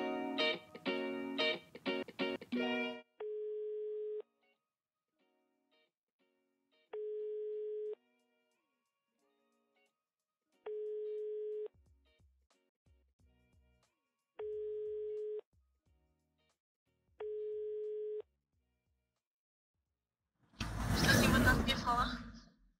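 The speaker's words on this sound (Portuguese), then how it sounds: "Vamos ligar aqui," An outgoing phone call to a room-rental landlord in Viseu, Portugal: a quick run of keypad dialing tones, then five steady, evenly spaced ringback beeps heard clearly and alone, ending in a short loud rustling burst as the line connects.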